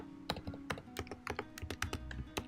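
Rapid typing on a computer keyboard, a quiet irregular run of crisp key clicks with short pauses and no voices.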